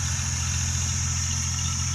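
A tractor engine runs steadily in a farm field being readied for cotton sowing, a constant close-up low rumble and hum with no changes in revs.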